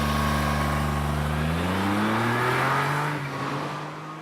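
A small car with a 0.7 liter engine accelerates, its engine note climbing steadily in pitch before fading as it pulls away, heard close and alone.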